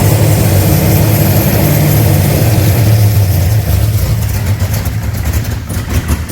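A Holden HZ with a swapped-in LS V8 idles close by, a deep rumbling throb that holds steady and then slightly dips and wavers, with no voices.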